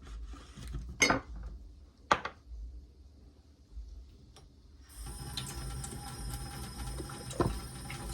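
Water is poured into a cup in a home kitchen while barbecue sauce is being made. A few dish clinks come first, then a steady, soft rushing pour.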